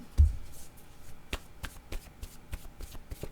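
Cards riffling and slapping from a deck of word cards, a string of short crisp snaps and flicks spaced irregularly, close and fairly quiet with no voices.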